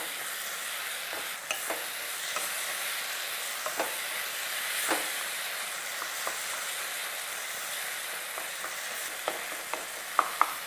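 Prawns fry in a tomato masala, giving a steady, close sizzle throughout with scattered clicks and scrapes of stirring, including a couple of sharper knocks near the end; no one speaks.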